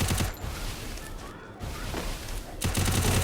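Rapid gunfire bursts from a mobile shooter game in a 2 vs 2 custom match, loud and dense at the start and again near the end with a brief lull between, including a headshot.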